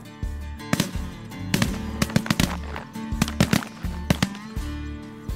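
A volley of shotgun blasts at incoming ducks and geese on a waterfowl hunt, many sharp close reports fired in rapid irregular bursts over a droning background, loud and without talk.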